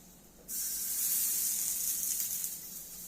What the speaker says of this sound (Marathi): आता आपण याच्यावरती झाकण ठेवूयात आणि दोन ते तीन मिनिट याला आपण चांगलं फ्राय होऊन द्यायचं आहे